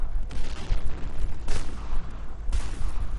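Gunfire from the online shooter Point Blank, heard as a dense crackle of rapid shots with two or three sharper bursts standing out, loud and continuous without talk.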